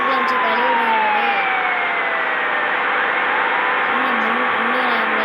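An ambulance siren in the Bus Simulator Indonesia video game wails in steady rising and falling sweeps over a constant engine hum. It sounds loud and continuous throughout.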